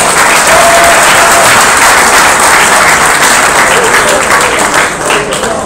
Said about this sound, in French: On l'applaudit là quand même.